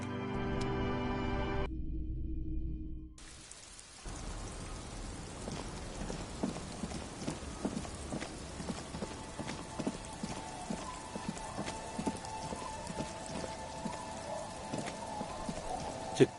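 Steady rain falls in the video game Disco Elysium, a soft, even patter and hiss with scattered drips, after a brief burst of other game sound at the start.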